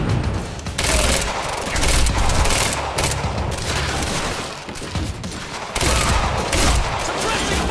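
Sustained gunfire in the video game Quantum Break, dense rapid bursts and booms that swell and pause in a loud, continuous barrage, with voices mixed in among the shots.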